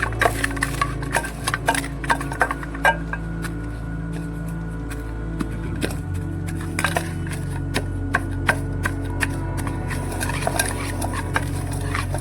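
Green chillies in a bowl are crushed with a dal masher, giving repeated irregular thuds and squishy knocks at close range over a steady low background hum.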